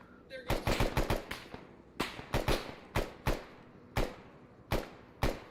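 Gunfire in a military video game: a burst of rapid shots followed by spaced single and paired bangs, loud and close, with sharp echoing cracks throughout.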